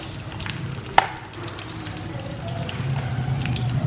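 Small onions sizzling as they fry in a pan, a steady close crackle with one sharp clink near the start and a low background hum, no one talking.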